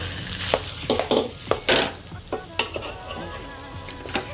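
Boiled chana dal is stirred into fried masala in a pan, with a series of scraping, clattering spoon strokes over a low sizzle, close and irregular.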